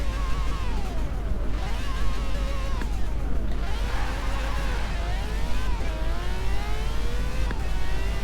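In the racing game Forza Horizon 4, a Nissan GT-R engine revs loudly and repeatedly, its pitch climbing and dropping through several sweeps as the car accelerates, with no talk.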